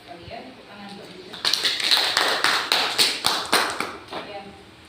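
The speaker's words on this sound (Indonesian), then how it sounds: "tepuk tangan buat kita" Small group of people clapping hands during a teacher training field-practice session in an Indonesian classroom, starting with a few taps and then a short burst of rhythmic, fairly close claps, with quiet talk around it.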